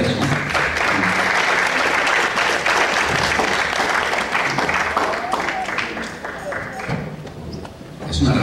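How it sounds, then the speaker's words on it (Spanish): A congregation claps in a loud, sustained burst of applause, voices mixed in beneath the dense clatter of hands, tapering slightly before a final swell at the end. "Un aplauso a Jesucristo"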